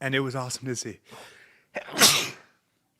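A person sneezes once, loud and close, right after a short stretch of someone talking, followed by a brief quiet.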